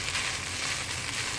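Fried idiyappam noodles being tossed in a pan, giving a continuous even sizzle with soft scraping from the mixing, close and steady, with no voices.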